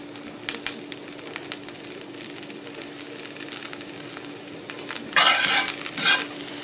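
Chopped onion fries in about two teaspoons of bacon grease in a pan, a soft steady sizzle and crackle with occasional stirring scrapes, swelling louder near the end.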